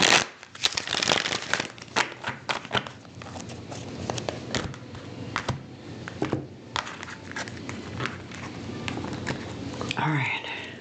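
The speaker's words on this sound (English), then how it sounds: "let me shuffle this one more time" Tarot cards are shuffled by hand at close range in a soft stream of riffling, flicking and tapping, with brief pauses and a faint rustle throughout.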